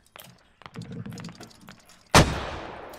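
Mortar rounds in the video game Squad: a burst of soft thumps and clicks, then one loud sharp blast with a long rumbling decay, heard fairly near and on its own.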